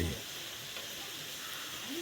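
Duck bulgogi sizzles in a pan outdoors on a summer evening, a steady broadband frying hiss that runs close and continuous for the whole stretch with no voice over it.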